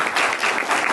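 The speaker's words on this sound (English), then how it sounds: "give a big round of applause to the complete audience" An indoor conference audience at a waste and recycling industry session applauds, a dense, even wash of clapping that holds steady for the whole second with no voices over it.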